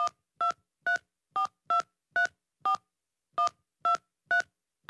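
A telephone keypad dialing a number: ten short, evenly spaced two-tone beeps, clear and close, with a brief pause partway through and nothing else heard.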